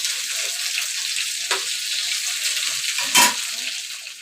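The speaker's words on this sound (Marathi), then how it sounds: "चांगले भाजले, व्यवस्थित चांगले भाजले. मी ते परतून घेते." Bangda mackerel fish frying in a pan, a steady broad sizzle running throughout with a brief louder crackle burst near the end, close and alone with no talk.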